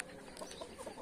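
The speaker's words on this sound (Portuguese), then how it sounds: "Mas eu tenho aí esse casal, que é esse frango aí e a galinha." A pair of Índio Bola chickens, a young rooster and a hen, cluck softly in short bursts, faint and close against a low background.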